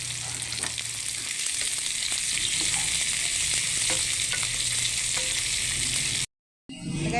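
Garlic and onion hiss and crackle steadily in a hot pan, a loud continuous sizzle with occasional stirring clicks, cutting off abruptly near the end.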